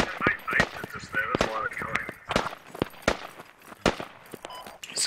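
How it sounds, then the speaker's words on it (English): Gunfire in the tactical shooter game Squad: sharp scattered shots and bursts at varying distances, heard under players talking over voice chat. "Sounds like we're getting shot from the west."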